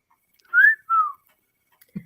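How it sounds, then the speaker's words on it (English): Two short whistled notes made with the lips, each rising and falling in pitch, close and clear in a quiet room, with a faint knock at the end. "You know how to whistle, don't you?"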